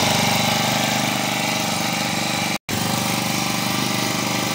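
A small engine-powered spray pump runs loud and steady nearby with a rapid chugging throb, cutting out for a split second midway before carrying on.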